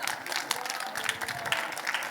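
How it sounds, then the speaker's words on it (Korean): Applause from a church congregation, steady rapid clapping from a crowd, fairly soft and somewhat distant, running evenly for a couple of seconds. "여러분 박수로 환영했습니다"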